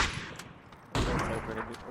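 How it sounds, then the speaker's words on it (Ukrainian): Gunfire from a multiplayer shooter video game, a sharp loud burst near the middle followed by rapid shots and faint distant pops, with players talking over it. "А вони ж стріляли поруч, наче, ні?"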